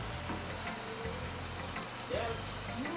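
Threadfin salmon fries skin side down in a pan with a steady sizzle and spit. Faint voices murmur underneath at moderate loudness.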